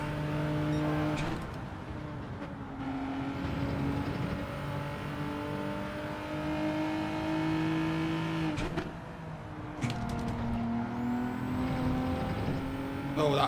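Group 4 race car engine in Gran Turismo 7 at Brands Hatch GP Circuit, a steady droning whine that drops sharply at each upshift, with two clear gear changes and rising pitch between them.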